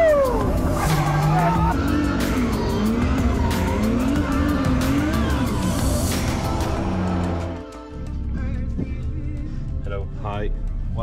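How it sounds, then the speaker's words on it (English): A drift car at the Irish Drift Championship at Watergrasshill, engine revving hard with clutch kicks and loud sustained tire squeal, then dropping off before a fainter engine note carries on in the distance. "He loves the clutch kick."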